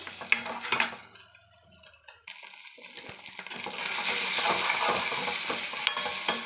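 Goat brain (bheja) is stirred in a pan with metallic clinks and scrapes, then a loud steady sizzle of frying takes over, close by, with no talk.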